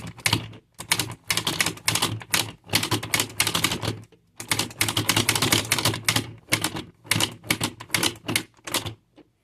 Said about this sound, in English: you spin the wheel